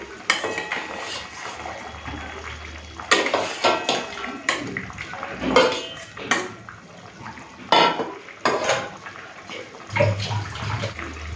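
Potato, eggplant and fried pabda fish being added and stirred in a pot for fish curry, bursts of clanking utensil and pot knocks with wet splashy movement, close and uneven, no speech.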